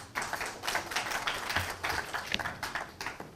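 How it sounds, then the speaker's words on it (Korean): Scattered audience clapping welcoming a professor to the stage at a Korean future-strategy forum, a thin, uneven patter of hands that stays moderate throughout without cheering. "큰 박수로 환영해 주시기 바랍니다"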